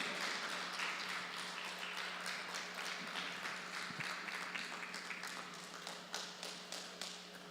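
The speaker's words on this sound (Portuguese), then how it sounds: "Uma salva de palmas para essa dupla," Audience applause welcoming a duo onstage at an event in Brazil's Federal District, a steady moderate wash of clapping from a crowd with distinct claps growing sharper toward the end.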